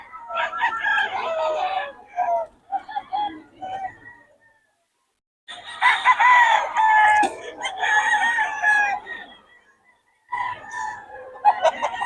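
Rooster and hens at a poultry sale in Bocaue, with repeated crowing and clucking in loud, close bursts separated by short pauses.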